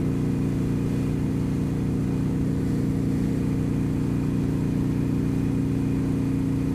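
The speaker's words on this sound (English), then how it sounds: "And my bike is pretty damn loud" Loud motorcycle cruising steadily on an open Florida road, a constant heavy engine drone with strong low rumble and wind, continuous and close with no talking.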